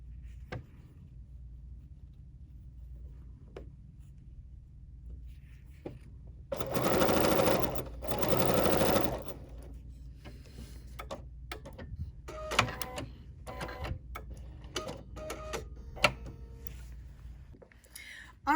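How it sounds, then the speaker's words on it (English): A BERNINA sewing machine stitches a mitered binding line, giving two short bursts of rapid mechanical whirring close by, separated by a brief pause, with quiet clicks and handling noise before and after. "And I'm going to sew down this miter line."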